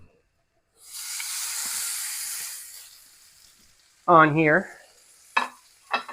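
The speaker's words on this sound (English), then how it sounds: "We're trying to just let this sear." Brisket searing in olive oil in a hot cast iron pan gives a steady broadband sizzle for a couple of seconds that gradually fades, followed by brief speech and a few short clicks near the end.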